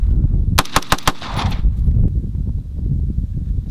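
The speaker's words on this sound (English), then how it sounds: "How it does rapid fire." A Faxon ARAK-21, an AR-15/AK-47 hybrid rifle, fires five loud, sharp shots in quick succession, followed by ringing echo and outdoor ambience.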